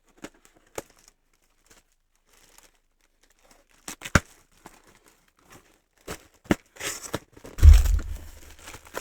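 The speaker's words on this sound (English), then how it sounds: "got a box. I'm going to need scissors to open them." A cardboard box is opened with scissors: sparse snips and taps at first, then a burst of tearing, crinkling and rustling cardboard near the end, close and fairly loud, with no talking.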